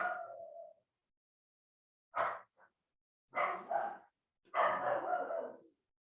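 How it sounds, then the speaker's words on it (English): A small dog barks and howls in a home during an online meeting, several separate bursts of yelping and howling, fairly close and otherwise alone. "Is that your dog?"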